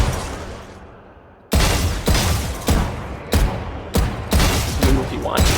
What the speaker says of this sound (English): go to the package and just shoot bots. Click between bots.